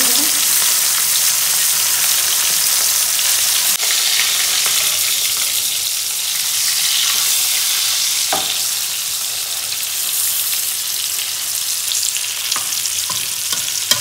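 Pomfret fish fries in a pan with a loud, continuous close sizzle and hiss, with a few faint clicks of a utensil and no talking.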